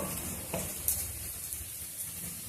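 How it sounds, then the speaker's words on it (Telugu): Taro root pieces fry in a pan over medium heat, giving a steady soft sizzle with faint stirring scrapes throughout, fairly quiet and with no talk. "ఒకసారి చూద్దాము చమదుంపలు వేగినాయో లేదో దాన్ని బాగా వేగినాయి చూడండి"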